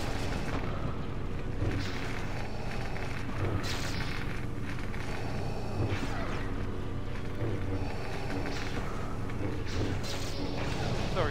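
Heavy explosions, crashes and impacts keep roaring as a shield generator is destroyed on Hoth in a Star Wars Battlefront 2 battle. Dense and loud throughout, with a few deep booms standing out over the constant din of combat.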